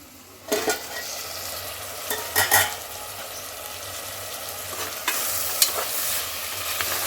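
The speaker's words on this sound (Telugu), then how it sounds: "మటన్ మాత్రం నూనెలో మంచిగా గోలాలండి." Mutton pieces fry in oil for a curry, a constant close sizzle broken by sharp bursts of spoon-stirring and scraping, with a louder hiss after a fresh stir.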